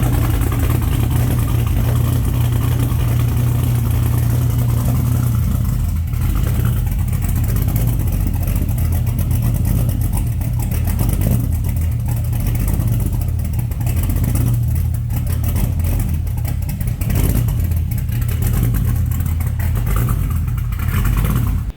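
A car engine running with a deep, steady low rumble and loud, constant drone, some uneven pulsing suggesting light revving; no talk, starting not distinctly marked.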